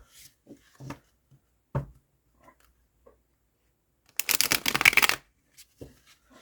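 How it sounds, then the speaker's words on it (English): A quick riffle shuffle of playing cards, a dense burst of flicking card edges lasting about a second, preceded by scattered soft handling taps. "this riffle shuffle"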